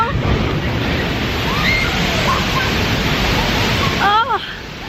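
Water splashes over riders on the VelociCoaster roller coaster, a continuous loud wash of spray and rushing noise that cuts off abruptly near the end, with voices calling out.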